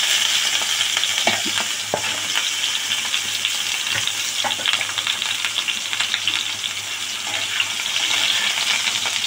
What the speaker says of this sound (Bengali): বেগুনটা দিয়ে দিলাম ভাজতে।